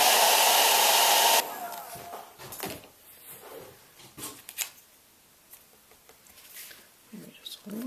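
A hair dryer blows loudly and steadily for over a second to dry a layer of paint, then cuts off, leaving faint handling sounds, taps and shuffling.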